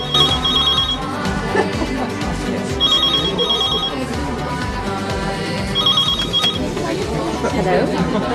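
A telephone rings in repeated bursts of bright electronic trills, steady and fairly loud, while people talk over it in an indoor room scene.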